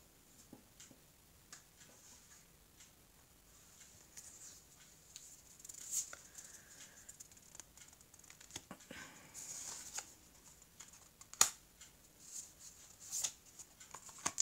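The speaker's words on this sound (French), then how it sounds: "Alors, je vais couper le jeu." Tarot cards are cut and handled close to the microphone, giving soft scattered ticks and papery slaps, with a few sharper clicks as the deck is split, all fairly quiet and with no talking.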